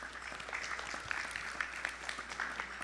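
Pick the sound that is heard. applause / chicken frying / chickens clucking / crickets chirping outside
applause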